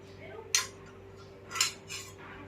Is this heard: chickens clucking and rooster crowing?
no